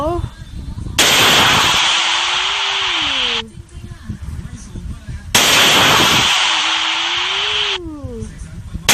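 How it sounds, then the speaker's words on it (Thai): An RPG launcher from a Minecraft gun mod fires twice, each shot a sudden loud blast trailing into a long roaring hiss of a few seconds, with a voice talking between and over the shots. "ปืน RPG อย่างแจ๋ว"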